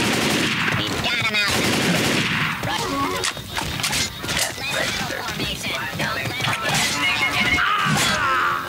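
Gunfire from shooting zombies in Left 4 Dead, dense rapid bursts of automatic and single shots with crashes, loud and close, under players talking.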